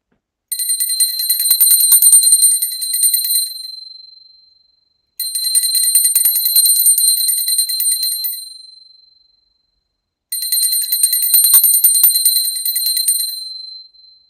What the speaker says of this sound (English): Now, I take a bell to offer the element of sound.